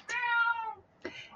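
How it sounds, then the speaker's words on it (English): A house cat gives a clear, drawn-out meow followed by a second short meow, close and distinct in a quiet room. "There's Simba, my cat."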